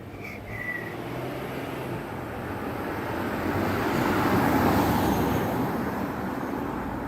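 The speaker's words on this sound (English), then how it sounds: "little bit of traffic early morning" Steady early-morning road traffic rumbling past as a continuous broadband wash, moderately loud and swelling slightly midway, with no voices and only a brief faint tone near the start.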